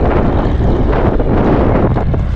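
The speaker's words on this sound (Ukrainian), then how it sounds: "Так я не знаю, як там мене чути, бо вітер капітальний у нас, як завжди." Strong wind buffets a microphone out in a field during tractor cultivation, a loud, continuous rough rumble throughout.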